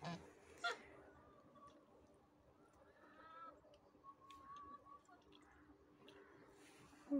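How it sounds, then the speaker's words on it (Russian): A few short, nasal goose honks at a distance, scattered over quiet outdoor background with soft rustles. "этот мой гусь"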